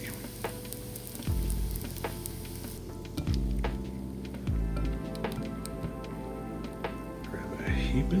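Feta in brine fries in a pan and gets flipped, a faint steady sizzle with several sharp scraping turns at intervals and occasional quiet talk underneath.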